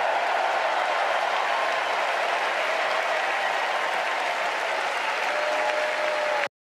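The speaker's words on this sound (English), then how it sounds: "Everyone's clapping." Sustained applause from a large political convention crowd in Chicago, dense and steady clapping at full volume throughout before cutting off abruptly at the end.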